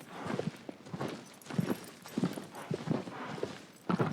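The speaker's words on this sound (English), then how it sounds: "is aggro a male horse or a female horse?" Horse hooves walking at a steady clip-clop pace in the video game Shadow of the Colossus, soft repeated thuds on ground, moderately close with low background ambience.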